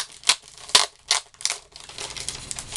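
Crinkly rustling and a few sharp crackling pulls as a vinyl record slides out of a clingy sleeve, close and fairly loud.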